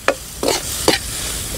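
Three quick stirs scrape through fried food sizzling in a pan alongside mung beans, each stir a short bright burst over a steady crackle, with no talking.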